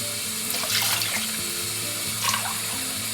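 A kitchen tap runs water into a pan of potatoes, a steady loud splashing stream with brief brighter surges where the flow hits the pan, and no talking.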